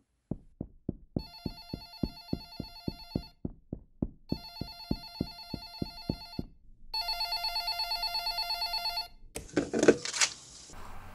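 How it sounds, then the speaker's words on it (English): A telephone bell rings in repeated bursts of rapid metallic strikes, loud and close, with short gaps between rings and a steadier buzzing ring near the end before a clatter as it is picked up. "I noticed the phone must be ringing."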